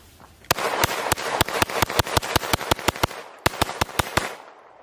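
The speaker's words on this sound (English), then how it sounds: "Extremely fast shooting" A competition pistol is fired in a rapid string of about twenty loud, sharp shots at a quick even rhythm, with one brief pause before a final burst, close and echoing.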